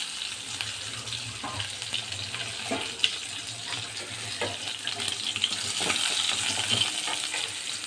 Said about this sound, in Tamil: நல்லா பொரியும் போது தட்டி வச்ச பூண்டு போட்டுக்கணும்